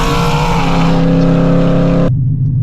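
A Ford Shelby GT350 with a failing transmission drives close by, its engine droning loud and steady under load before cutting off abruptly near the end.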